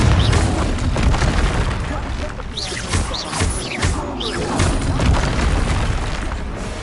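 Confringo explosive spell blasts from a video game, a dense run of loud booming bursts and crackling impacts filling the whole stretch with little pause.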